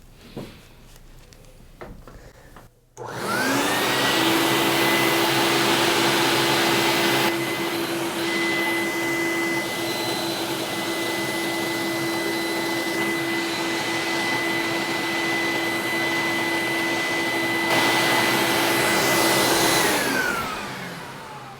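A loud, steady record cleaning machine vacuum motor whines close by for about twenty seconds, starting abruptly after a clunk and winding down near the end.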